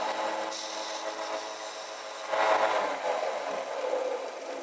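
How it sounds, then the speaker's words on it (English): A wheel being scuffed in a workshop, a steady abrasive rubbing and rasping that swells louder partway through, close and continuous with no talk. "scuffing the wheel."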